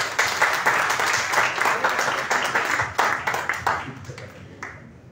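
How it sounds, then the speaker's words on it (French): Applause from a small audience at a community gathering for Rosh Chodesh Tamuz, dense clapping that thins and fades out over about five seconds. "Vous pouvez l'applaudir, hein?"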